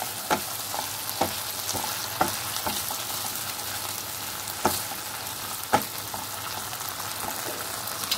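Okra do pyaza sizzling steadily in a pan as whisked yogurt goes in, with a continuous fry hiss broken by several sharp spoon clicks and stirring knocks.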